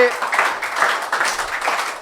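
An audience at a student result celebration claps for a student, a dense wash of applause with a voice speaking over it throughout.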